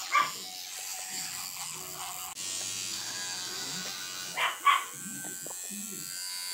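A dog's teeth being brushed with an electric toothbrush, a steady close buzzing running throughout, with a few short yips and snuffling sounds mixed in.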